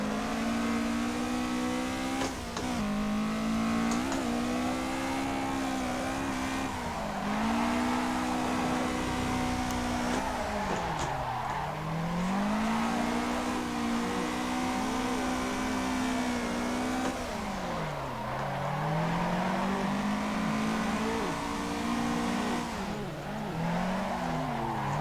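A drifting car in the Assetto Corsa racing sim revs hard and steadily, its engine pitch swooping up and down through repeated transitions, with tire squeal mixed in, loud and continuous without talk.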